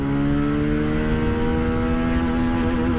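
A Bajaj Pulsar 220F motorcycle engine pulls hard and close, its steady droning note holding strong under load while riding through the gears, with no talk over it.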